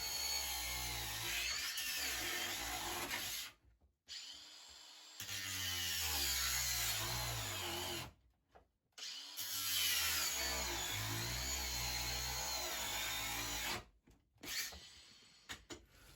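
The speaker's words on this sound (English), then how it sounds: "I just grabbed my angle grinder with a nice cutting disc, cut right through it there" An angle grinder with a cutting disc slices through a refrigerator in three long, loud, harsh bursts separated by short silences, the pitch wavering as the disc bites into the material.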